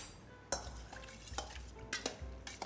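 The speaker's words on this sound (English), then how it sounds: "Mix a little bit." Leche de tigre being mixed for ceviche, soft stirring with a few sharp clinks of utensil on bowl, quiet and close, with no talking.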